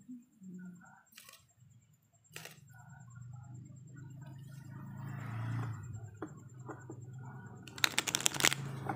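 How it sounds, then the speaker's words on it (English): Tarot cards are shuffled in a run of soft riffles and slaps, with sharp clicks of cards hitting a surface and a busier flurry of shuffling near the end, all close and with no talk. "shuffle another cards for you."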